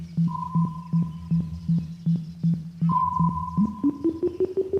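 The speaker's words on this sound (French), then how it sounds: "vous entendez le bip qui monte et descend." Steady, evenly spaced electronic beeps from a sonar compass in the Sonar Islands video game, with a sustained tone stepping up and down in pitch between pulses, clear and close with no talk.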